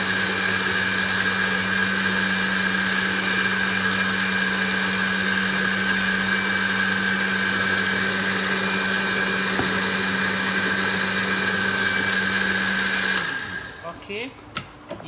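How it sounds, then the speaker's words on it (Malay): An electric blender grinds chili peppers to a fine paste for asam pedas, a loud steady whirring drone running for about thirteen seconds before cutting off into quieter kitchen clatter. "Perempuan perlu kisar halus ya, sebab kalau you makan dalam keadaan lada dia berkeping-keping, nanti makan sakit perut."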